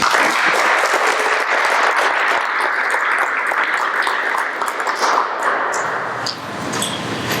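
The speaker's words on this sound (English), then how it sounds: "I think that deserves a round of applause." Crowd at the grand opening of the Innovation and Learning Center breaks into sustained applause, loud and continuous clapping from many hands that thins slightly toward the end.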